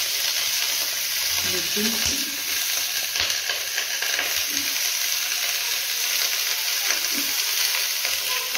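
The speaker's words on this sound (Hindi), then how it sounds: "इतना बड़ा कढ़ाई में देखें गोभी तो आलू मटर छीन का सब्जी बना रहे हैं" Cauliflower, potato and peas frying and being stirred in a large kadhai, a steady sizzle with scraping stirs running throughout, with a brief spoken word.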